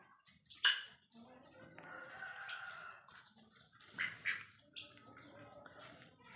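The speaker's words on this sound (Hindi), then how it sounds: "ये हमारे चकोर हैं" Pet chukar partridges call in short, bright, chattering notes spaced across a few seconds. The calls come from nearby and stand out against a quiet background.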